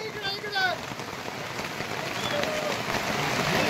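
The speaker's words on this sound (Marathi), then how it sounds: "पाऊस चालू आहे" Steady rain pattering on a surface near Trimbakeshwar, Nashik, a dense continuous hiss close by, with faint bird calls early on and no talking.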